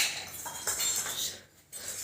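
A spoon clinks lightly against dishes during a home meal of rice, dal and fried lentils, giving a few brief, soft metallic taps close by, with no voices.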